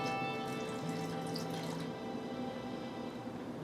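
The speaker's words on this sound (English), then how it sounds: "I'm going to pour a cup in, and she's going to pour the rest in" Water runs steadily from a faucet, pouring into a pot while gummies are being made, a continuous close splashing stream with a faint tonal hum through it and no talking.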